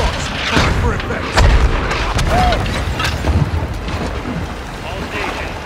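Artillery barrage in the Modern Warfare II campaign mission Cartel Protection: a continuous rumble of distant shelling with several deep booms, the loudest around the middle, under radio-style voices talking.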